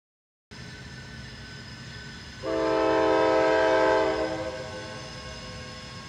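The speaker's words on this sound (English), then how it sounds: "This is Q127, an intermodal out of Chicago heading to Jacksonville" A CSX intermodal freight train, Q127 out of Chicago bound for Jacksonville, rumbles steadily on the Fitzgerald Sub as its multi-chime horn sounds loud for about two seconds, then fades under the continuing rail noise.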